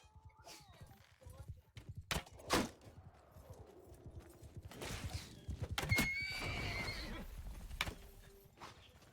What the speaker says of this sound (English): Oh! I just killed a guy's horse.